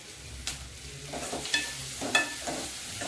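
Onions sautéing in a pan for puri masala, a soft continuous sizzle with a few clear spatula scrapes at a regular pace, close and moderately quiet.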